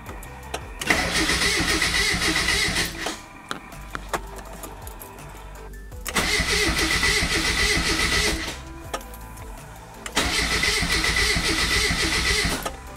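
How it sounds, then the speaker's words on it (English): A car engine with a completely drained gas tank cranks without starting, three long loud bursts of rhythmic starter whirring separated by pauses, close and alone. "Gas tank is drained, and to prove it to y'all, and just try and start the car real quick."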